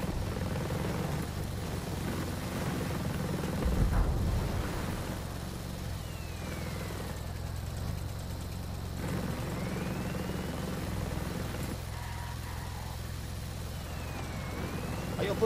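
A helicopter in the video game Ghost Recon Breakpoint gives a steady, moderately loud rotor and engine drone that holds throughout with no voices on top.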